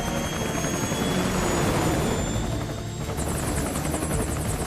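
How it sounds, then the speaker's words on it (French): Rotor thump and engine roar of a Hind attack helicopter in the game Metal Gear Solid Peace Walker, a loud steady drone that fills the whole clip without speech. "combat contre un hélicoptère"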